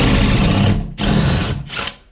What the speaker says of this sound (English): Now we can follow that pilot hole with our flat bit or our spade bit.